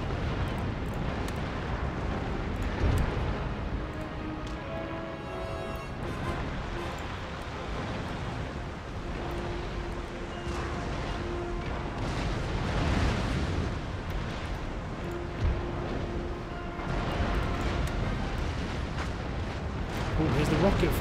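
A sailing warship's cannon broadside in Empire Total War booms in repeated heavy, rolling blasts during a large fleet battle against the French, with continuous battle rumble and someone talking over it.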